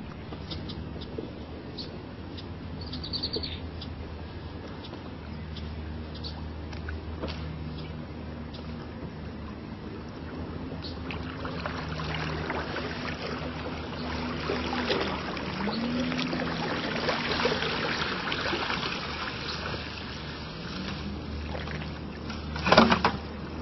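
A lake weed rake's tines are dragged along the lake bottom and pulled back through the water, producing a long, rough swishing and scraping that swells toward the end, closing with a brief clunk.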